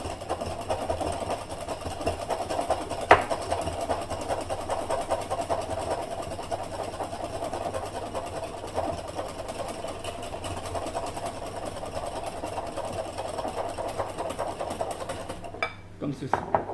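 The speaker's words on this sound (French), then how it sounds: "Vu la quantité, on ne peut pas le faire au batteur, donc je le fais au fouet à main." A large batch of eggs is whisked by hand with a wire whisk until thick like sabayon, for a chocolate bûche de Noël. The whisking is a steady, rapid, continuous rhythm of metal tapping against a bowl, with faint talk in places.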